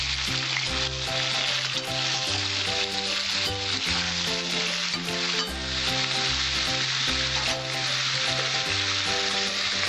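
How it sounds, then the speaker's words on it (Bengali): Pumpkin chokka stirred in a pan with green chilli and salt, a steady broadband sizzle with repeated scraping strokes, loud and close, while tonal background music plays throughout. "এবার আমি নাড়াচাড়া দিয়ে ঢেকে দেবো।"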